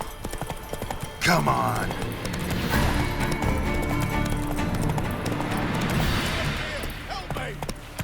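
Hooves of Roach the horse clip-clop at a gallop in The Witcher 3, a loud rhythmic pounding running steadily under game music while a voice briefly speaks.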